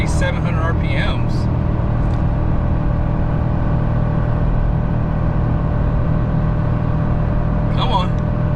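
A 2023 Ford F250 with the 7.3L gas V8 tows uphill in third gear at high revs. The low engine drone and cabin rumble are steady and continuous, with brief speech at the start and end.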